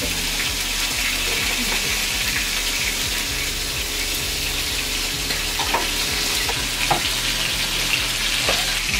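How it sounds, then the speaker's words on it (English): Scallops sear in a hot pan as tapas-style one-bite appetizers, giving a loud, continuous sizzle and crackle with a few small clicks of utensils and no talking. "now that the scallops have been seared on one side, you'll just flip it over and continue searing them the other way"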